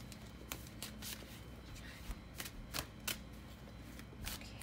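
Oracle cards are shuffled close by, soft repeated riffling and papery slaps over a faint steady hiss, quiet and continuous for a few seconds.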